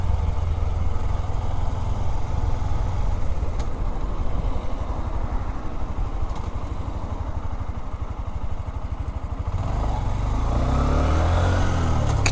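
A Honda CB125F motorcycle being ridden, its small single-cylinder engine droning steadily and close, with wind rush throughout and a shift in pitch near the end as the rider changes speed.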